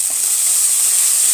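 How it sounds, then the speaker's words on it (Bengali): Onion and ginger-garlic paste fry in a pan for an egg and potato curry, giving a steady, loud, close hiss of sizzling oil that runs unbroken with no talking. "এটাও আমি একটু 2 মিনিটের জন্য ভেজে নেব"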